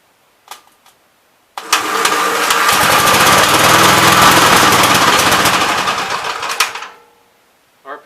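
A 1971 Gravely C tractor engine cranks and catches, then runs loud and close for about five seconds with a rough, sputtering drone before dying away, with a few faint clicks before and after.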